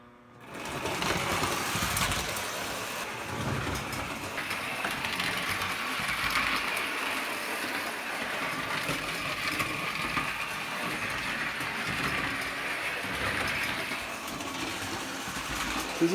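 A Lionel 520 box cab electric model train running fast on about 8 to 9 volts, giving a steady close mechanical whir and gear chatter that holds at an even level, with a faint rattle throughout.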